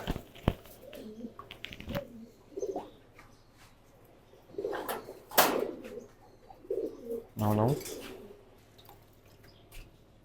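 Pigeons coo in a loft during bathing time, soft throaty coos in irregular bursts alongside light splashing and dripping water, fairly close and with no talking.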